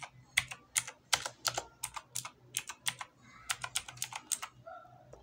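Keys clack on a GamePower Warlock mechanical keyboard with blue switches, a steady run of sharp, clicky strokes close to the microphone over a quiet background hum.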